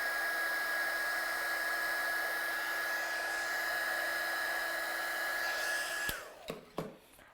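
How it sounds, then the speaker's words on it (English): A heat tool used for heat-setting embossing on a card blows with a steady, loud whine and whoosh for about six seconds, then cuts off abruptly and is followed by a few soft knocks. "I just need to heat set the J on there because I haven't quite got the J."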